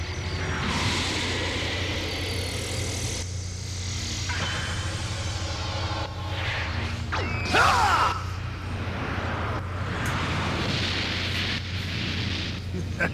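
A Special Beam Cannon energy attack rings out as a long roaring, crackling blast with swelling whooshes and rumbling bursts, loud and dense throughout, with a sharp crackling surge near the middle.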